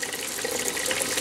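Hot water running from a tap inside an RV travel trailer fed by a PrecisionTemp tankless water heater, a steady close hiss and splash with no voices over it.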